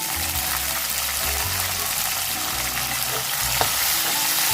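Onion, tomato and curry leaves sautéing in a pan for a lentil-ball kuzhambu, giving a steady close sizzle and frying hiss with faint stirring and a low background hum, no talking.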